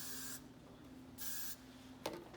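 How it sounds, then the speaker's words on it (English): Hairspray hisses from an aerosol can onto a ponytail in two bursts of about a second each, with a short pause between them and a faint click near the end. "We're gonna respray it to make sure everything stays where it needs to."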